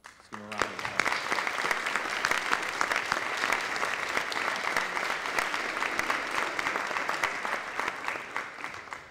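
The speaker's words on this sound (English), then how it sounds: "Let's give him a round of applause." An audience at a student induction ceremony for a U.S. Army All-American Marching Band member breaks into a sustained round of applause, dense clapping filling the room steadily from start to finish after a brief voice at the very beginning.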